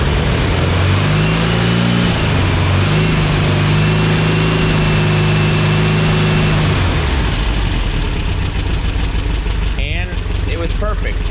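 The engine of a 1966 Volkswagen Split Bus, which has a sputtering fault, revs up toward 3,000 RPM, a loud, close, continuous roar with rising and shifting engine tones, then settles and trails off near the end.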